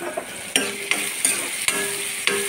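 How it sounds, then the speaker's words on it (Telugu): Onions frying with a pinch of salt in a pan for a chikudukaya tomato curry, with a steady close sizzle broken by several sharp scraping stirs of a spoon against the pan. "కొంచెం త్వరగా వేగడానికి కొంచెం ఉప్పు యాడ్ చేసుకుందాము. దీనివల్ల ఆనియన్స్ త్వరగా ఫ్రై అవుతాయి"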